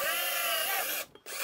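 A power drill whirs at high speed, the pitch shifting as it bites through a wooden cabinet door, then cuts off abruptly before spinning up again, close by.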